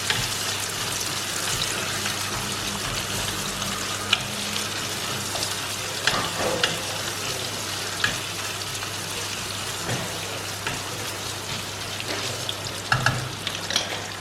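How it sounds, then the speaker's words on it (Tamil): Sliced onion frying in a pan, a steady close sizzle and crackle that runs the whole time, with occasional stirring clinks and scrapes over a low background hum. "ஒரு வெங்காயத்தை ஸ்லைஸ் பண்ணி வச்சுருக்கேன், அதை போட்டுடலாம். ஸோ இதை வந்து ஆனியன் லைட்டாக ப்ரௌன் ஆகிற வரைக்கும் ஃப்ரை பண்ணி விட்டுருலாம்"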